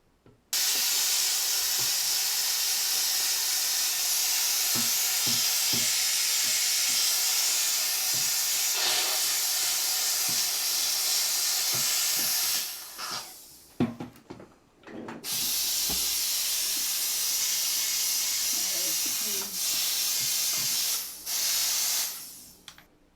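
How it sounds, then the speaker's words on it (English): A Bissell Steam Shot steam cleaner with its scraper tool fitted gives a loud, continuous hiss as it cleans narrow, tight areas. The hiss cuts out briefly a couple of times before starting again, with faint scraping under it. "So we're actually going to use the scraper tool on this one."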